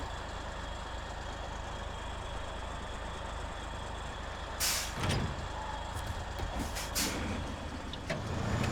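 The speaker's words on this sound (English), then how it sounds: "Now I need to just drop the trailer right here." Truck in SnowRunner releasing its trailer: a sharp pneumatic air-brake hiss bursts out midway, followed by several short clanks and hisses over a steady engine rumble.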